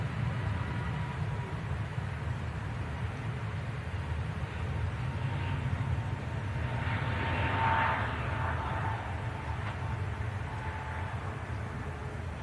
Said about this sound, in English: Pegasus rotates, commences the climb out.